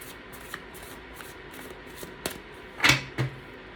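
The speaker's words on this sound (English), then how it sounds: "Let's actually shuffle." A tarot deck is shuffled by hand, giving soft papery riffles and a few sharper card flicks and taps, quiet and close with no talk.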